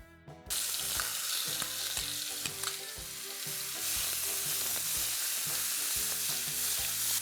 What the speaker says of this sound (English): Once the ghee is nice and hot, I'm going to add a whole dry Kashmiri red chili, some cumin seeds, asafoetida